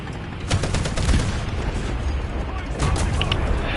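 Machine gun fire in War Thunder: dense, noisy bursts of rapid shots, one from about half a second to just past one second and another near the end, with a steady battle din between them.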